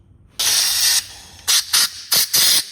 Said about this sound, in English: now we're going to wash the oil out of these threads and off the bolts.